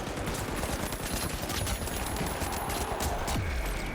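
A video game firefight: dense, rapid gunfire rattles continuously at moderate volume, with scattered sharper cracks layered over the barrage.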